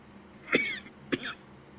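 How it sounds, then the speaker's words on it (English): Two sharp, close coughs, about half a second apart, each with a brief rough tail, against near silence. "I've got a cough today, guys."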